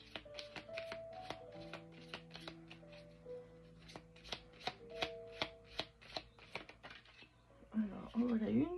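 Tarot cards are shuffled and tapped down one after another in a steady rhythm of soft, crisp clicks and slaps, heard up close under quiet sustained background tones, with someone speaking at the end.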